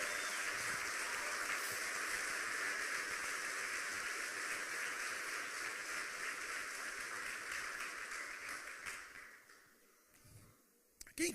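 Church congregation applauding during a sermon, a steady crackling wash of many hands clapping, fairly faint, holding for about nine seconds before tapering off into near silence.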